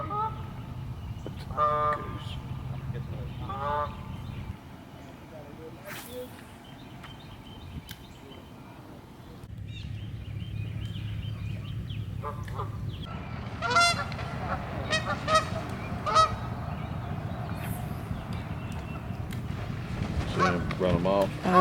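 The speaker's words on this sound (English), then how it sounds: "There's the geese." Geese, including young goslings, honk near a fishing spot beside water, with repeated nasal calls in bursts over low ambient rumble while people talk nearby.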